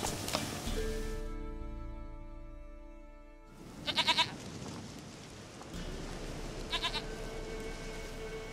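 A goat bleats twice in The Witcher 3: Wild Hunt, short quavering cries separated by a few seconds over quiet game ambience and a fading musical tone.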